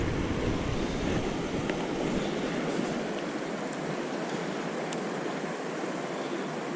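Fast-flowing river water rushes past at a fishing spot, a constant, full broadband roar that stays close and fairly loud the whole time with no voices over it.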